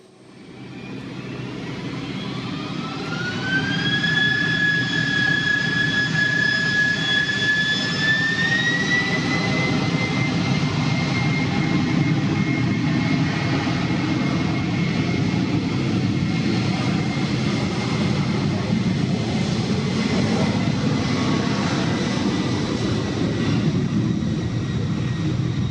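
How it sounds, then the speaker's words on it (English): Jet engines of a Boeing 767 at an airport spool up into a loud, steady roar with a rising whine that levels off, sustained and close for the whole stretch. "I was happy seeing this particular 767"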